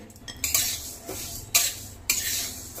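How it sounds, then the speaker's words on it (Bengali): Lentils dry-roasted in a dry pan for bhoger khichuri, stirred with a utensil that scrapes and clinks against the metal in several distinct strokes over a faint background hiss. "শুকনো খোলায় ডাল আগে ভালো করে ভেজে নিতে হবে"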